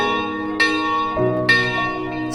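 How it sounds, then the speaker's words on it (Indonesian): A church bell rings out with repeated resonant strikes, each clang overlapping the humming decay of the last, loud and close. "ditandai dengan bunyi lonceng pertama"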